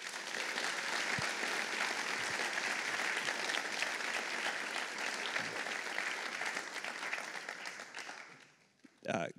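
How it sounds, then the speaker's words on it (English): Sustained audience applause for three student InvenTeams fills most of the stretch, dense and steady before thinning out near the end, with some talk mixed in. "One more big round of applause to those three teams"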